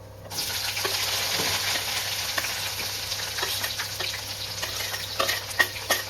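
Three sliced large onions frying in hot oil, a dense steady sizzle up close with scattered ticks and stirring scrapes throughout.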